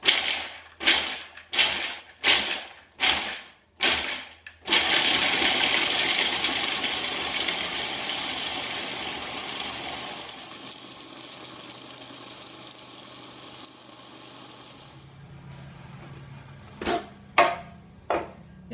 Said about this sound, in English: So everything in this section will be in the food processor.